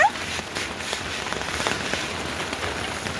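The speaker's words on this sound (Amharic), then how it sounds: "ዝናቡ ጣለ አንጠበጠበ" Heavy rain pours down in a steady, dense hiss with scattered crackling patter of drops striking surfaces, continuous and fairly close, with no voices.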